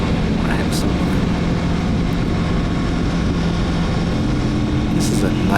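A 2024 Kawasaki Z650RS motorcycle building speed on a freeway on-ramp without being revved hard, its engine a loud, steady low drone mixed with constant wind rush.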